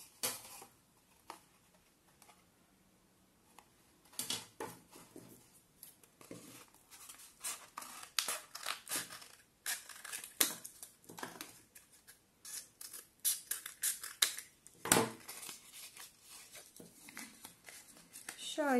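Scissors snip through craft material for a homemade Blackpink lightstick, giving a run of short, crisp cuts spread irregularly across the clip, close and moderately loud, with light handling clatter between them.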